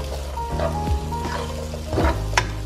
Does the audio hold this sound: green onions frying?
yes